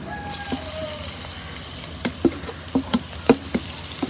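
Chicken pieces dropped into a pan already holding fried onion, green chillies and cumin, giving a low steady sizzle punctuated by several sharp clinks and scrapes of a spatula, with no voices.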